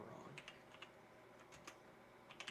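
Typing on a computer keyboard, faint and close, with scattered light key clicks in short bursts against a quiet room hiss.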